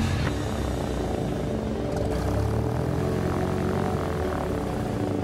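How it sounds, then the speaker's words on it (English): A propeller airplane roars steadily as it takes off, its engine loud, close and unbroken throughout with no talk. "Fly runway heading runway 12, clear for takeoff."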